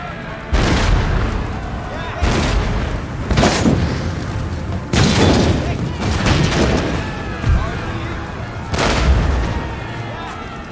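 Repeated musket volleys from line infantry in Empire: Total War, a battle between the United Provinces and Mysore, crack out in about six loud bursts a couple of seconds apart, each rolling into a rumbling tail over continuous battlefield noise.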